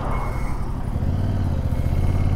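A 2023 Yamaha MT-07 motorcycle braking hard: a loud, close, steady low engine rumble with a slight falling tone as the bike slows, plus faint clatter, and no talking.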